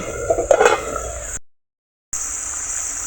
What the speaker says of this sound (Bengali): পনেরো মিনিট পরে ঢাকনা খোলা হচ্ছে